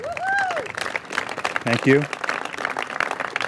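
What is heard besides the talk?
audience applause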